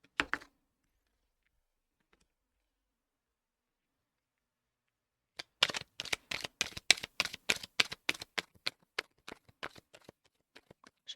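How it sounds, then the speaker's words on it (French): Tarot cards being laid out one by one for a reading, a run of quick, close papery slaps and flicks with a brief rustle at the start, then a long silence before the dealing begins. "je vais déjà mettre toutes les cartes et après, je vous fais la guidance"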